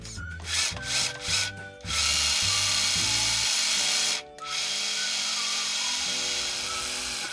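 A steering servo on a newly built RC crawler whirs in several short bursts and then in longer sustained runs, a close, buzzy motor whine with brief pauses between movements.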